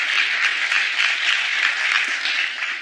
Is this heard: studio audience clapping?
yes